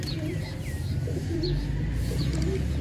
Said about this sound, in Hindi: कबूतर जो के पकड़ा है